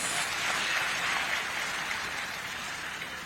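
Sustained clapping from an audience at a teachers' union silver jubilee gathering, a dense even wash of many hands at a steady level throughout, with no talking.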